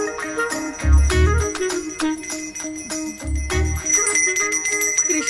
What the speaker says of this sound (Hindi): मुझे जल्दी आओ बोल के यहाँ पर घंटी बजा रहे हो